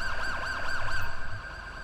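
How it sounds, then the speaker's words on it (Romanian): Wailing police car siren in the GTA 5 video game, a loud repeating up-and-down sweep that cuts off near the end, alone with no voices. "s-o opresc aia de sirena asta acum"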